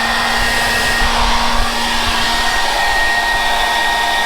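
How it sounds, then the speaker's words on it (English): A 1200-watt hairdryer, powered by a FOSSIBOT F2400 power bank, blows with a loud, constant whirring hiss and a steady electric hum, close and with no voices. "can we power this hairdryer off this? This hairdryer is rated at 1200 watts."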